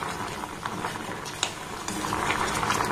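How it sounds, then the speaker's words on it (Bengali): Small soft sweets made from ripe mango, sugar and flour boiling in syrup in a pan, a steady close bubbling with light pops and no talk. "এটাকে আমি 5 থেকে 7 মিনিট সময় দিয়ে ফুটিয়ে নিয়েছি"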